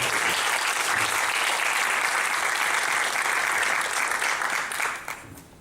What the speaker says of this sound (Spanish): Vamos a darle un fuerte aplauso al teniente Rodríguez.